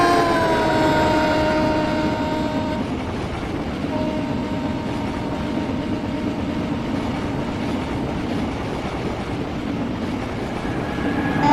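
A train rushing past as a story sound effect, a loud, steady rumbling roar with tonal horn-like whistles at the start, continuing without pause for over ten seconds with no voices.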